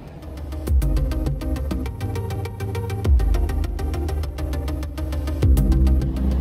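Motorbike engine idling nearby on a street in Vietnam, a steady low rumble with a rapid, even ticking pulse that briefly swells a few times.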